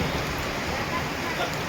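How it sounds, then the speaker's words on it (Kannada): Rain falls steadily on a village home, a dense even patter filling the whole moment without a break, fairly close and uniform. "ಮಳೆ."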